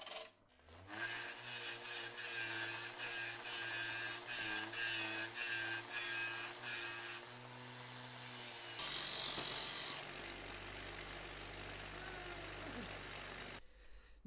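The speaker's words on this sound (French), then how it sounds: "si vous avez sous la main une meuleuse comme ça ou une disqueuse, il y a une petite astuce très très pratique qui consiste à tailler son boulon en pointe" An angle grinder shapes a bolt into a point, a rasping, rhythmic grinding with repeated short strokes against the metal over a steady motor whine, then a smoother continuous grind before stopping.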